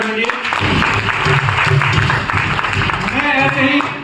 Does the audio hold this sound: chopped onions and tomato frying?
no